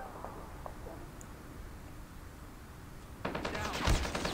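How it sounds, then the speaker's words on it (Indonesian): Kar98k rifle fire in the battle royale game PUBG, faint distant pops at first, then a louder burst of sharp crackling gunfire near the end, with no talk. "Meleset tembakan kita, teman-teman."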